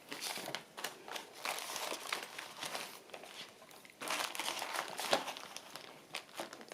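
A paper bag is folded and crinkled by hand to make a journal, giving close, soft, irregular crackling and rustling that continues for several seconds with no talk.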